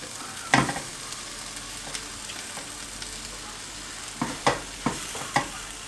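Paupiettes returned to a pan of honey-glazed sauce, giving a steady low sizzle with a sharp clatter as they drop in near the start, then several scraping stirs toward the end.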